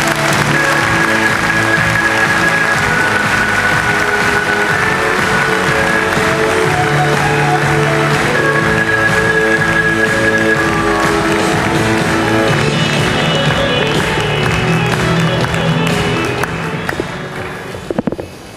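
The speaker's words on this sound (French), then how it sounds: "On peut les applaudir." An indoor arena audience at the Vendéspace applauds a cycling team presentation, a sustained loud wash of clapping with music tones on top, tapering off near the end.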